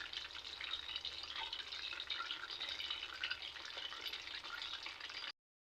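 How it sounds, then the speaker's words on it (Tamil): Hot oil sizzles and crackles steadily in a pan as a bit of adhirasam dough is dropped in to test it, a soft continuous fizz that cuts off abruptly. "எண்ணெய் நல்லா கொதிச்சுட்டுக்குதுங்க."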